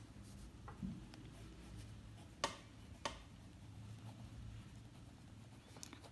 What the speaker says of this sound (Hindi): यहाँ मैं लिख देती हूँ